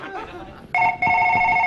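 A telephone rings in a TV comedy show studio, starting sharply as a loud, steady electronic ring that breaks off briefly and resumes, following some talk and quieter sounds.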